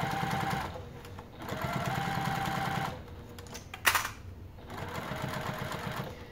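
A sewing machine runs in short bursts of rapid even stitching while backstitching at a 2.5 to 3 stitch length on a Martini Crossover garment, with brief pauses and a sharp clack between runs.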